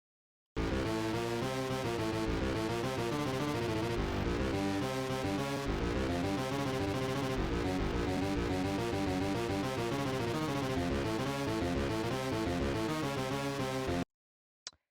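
Stacked guitar tracks in a remix play together, dense and continuous for about fourteen seconds before cutting off abruptly to near silence.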